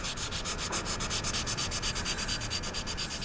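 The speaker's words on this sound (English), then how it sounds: "all you see is a pair of gloved hands gently polishing the aluminum camera component over and over again" Gloved hands steadily polish an aluminum camera component, making a continuous rhythmic rubbing hiss with even back-and-forth strokes, close up and with no talking.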